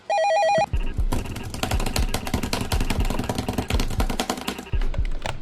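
A video game telephone rings loudly with a repeating electronic bell pattern, followed by a dense burst of rhythmic game sounds and clatter, with no talking.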